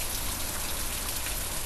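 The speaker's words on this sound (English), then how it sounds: "we've just been getting pounded with this rain so much." Heavy rain pours down steadily during a stretch of Arkansas flooding, a dense, loud, unbroken hiss of drops drumming on surfaces with no voices.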